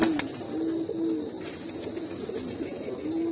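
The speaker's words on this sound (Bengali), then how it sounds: "যাতে মানুষগুলা দেখতে পারে সবগুলা কবুতর" Pigeons in a loft coo in soft repeated low calls, several short coos spaced through the stretch, close by over quiet background noise.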